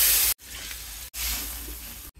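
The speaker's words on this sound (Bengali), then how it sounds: "2-4 মিনিট এইভাবে মশলার সাথে কষিয়ে নেব।" Catla fish head, fried rice and fried potatoes sizzling loudly in hot oil with spices, a steady close frying hiss broken by two brief pauses, likely as the pan is stirred.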